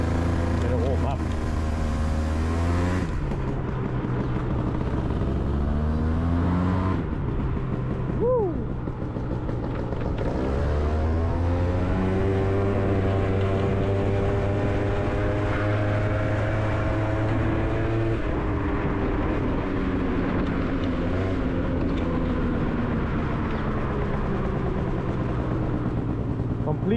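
A cold Yamaha BWS scooter engine, stock apart from its exhaust pipe, idles and revs unevenly for a long stretch while warming up, its pitch rising and falling, with someone talking over it.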